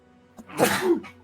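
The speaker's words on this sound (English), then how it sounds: "I'm gonna sneeze." A single sneeze, with a brief breathy wind-up before the loud burst, close to the microphone.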